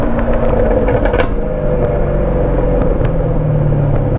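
The engine of a 2019 Chevrolet Camaro SS rumbles loudly nearby, a dense throaty drone with a short rise in pitch toward the end before cutting off.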